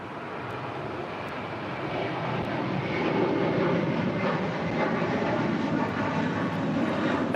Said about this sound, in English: That is Southwest Airlines Flight 290 coming in from Chicago Midway on a MAX 8